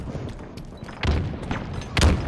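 Gunfire in a team shooter video game, with a few sharp shots and heavier booms, the loudest near the end, over a low background rumble.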